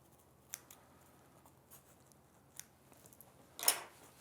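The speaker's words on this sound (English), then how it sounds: "We'll just trim those little threads off." Scissors snip loose threads after a buttonhole is sewn on an Alfa Style sewing machine: a few faint, sparse clicks, then one louder close crisp snip near the end, in a quiet room.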